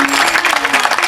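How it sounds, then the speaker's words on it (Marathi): An audience at a Marathi kirtan claps in a brief, dense burst of steady applause, heard up close. "आता इथं मला तुम्हाला वाक्याला टाळ्या घ्यायच्या."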